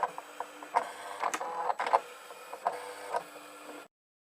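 Silhouette Portrait cutting machine runs quietly up close, a soft whirring motor broken by irregular clicks and short zipping carriage moves, stopping abruptly near the end.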